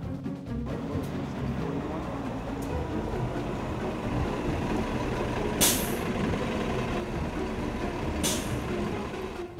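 A B41 city bus rumbles close by with a loud diesel engine, letting out sharp hisses of air brakes twice as it arrives and rolls along the street.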